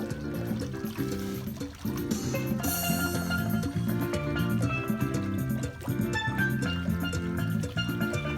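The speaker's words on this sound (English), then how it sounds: "Oh, listen to that. Steel drum music." Steel drum music plays continuously from an Alexa smart speaker nearby, with bright, ringing melodic notes over a steady rhythm, moderately loud.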